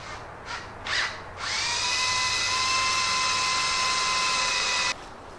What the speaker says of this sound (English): let's drill this out and see what we got.